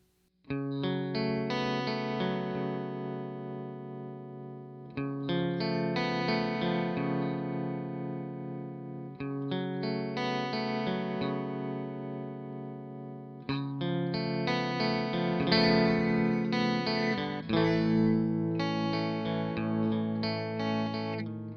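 An electric guitar played through a Victory V40 Deluxe valve amp with reverb switched on rings out in sustained, distorted chords, phrases restarting every few seconds with a faint ambient tail, loud and alone.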